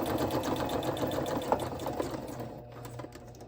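A sewing machine runs steadily, stitching decorative lines through scrappy flip flop journal panels, its fast, even mechanical chatter loud and close before it slows and eases off near the end.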